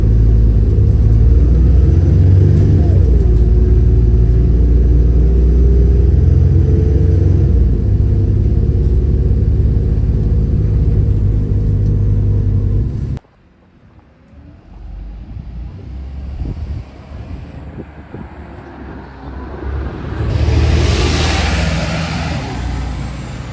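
A First Doncaster Volvo B7RLE single-deck bus engine revs loudly with a steady low rumble as the bus pulls away from a stop, then drops after a gear change and builds again, heard from on board.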